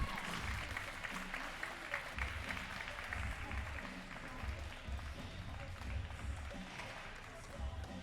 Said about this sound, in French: Applaudissements pour Domiti.